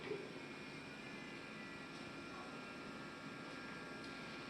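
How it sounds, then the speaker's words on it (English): A turbo pump on an electron microscope winding down, a steady airy whine and hum holding level and continuous throughout, fairly quiet, with no speech over it. "You may be able to hear kind of a winding noise. That's the turbo pump winding down."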